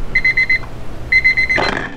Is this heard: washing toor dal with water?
no